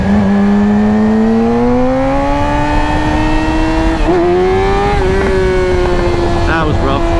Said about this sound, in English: Let's see if we can pop a wheelie.